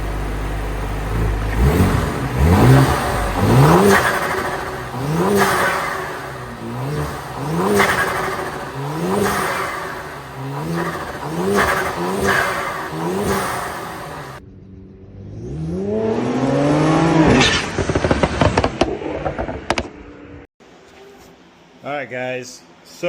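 A Ford Explorer ST fitted with a new HSF/GSP intake revs repeatedly in loud, rising-and-falling surges, then one last long rev after a short break. A voice talks over it and the sound ends in quieter rumbling.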